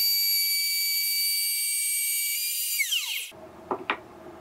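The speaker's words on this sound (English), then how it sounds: "Making double holes to attach wooden hinges for legs" A drill boring double holes in wood for the hinges of a folding camping table gives a loud, steady high whine that winds down, then a couple of short knocks.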